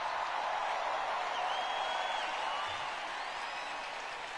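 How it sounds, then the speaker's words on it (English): An audience applauds steadily, a dense wash of clapping that stays even and slowly tapers slightly toward the end. "now you clap for that"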